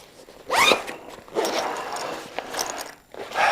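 Zipper pulls on an Arc'teryx Mantis 26 backpack drawn open and shut, giving several quick rasping zips separated by short pauses, close up and clear.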